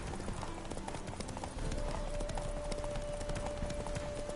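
Hooves of a galloping horse in a race in The Witcher 3: Wild Hunt pound in a fast, steady rhythm, a continuous muffled clatter under dense game noise.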